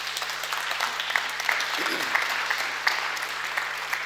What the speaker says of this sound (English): I think also a round of applause to them.